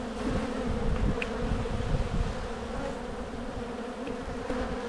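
Honey bees buzz steadily around an open beehive during an inspection of the brood nest, a dense close drone with individual bees passing near.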